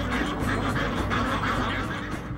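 Ducks quack repeatedly in a farmyard in southern China, a dense overlapping chorus of calls over a steady noisy background, moderately close.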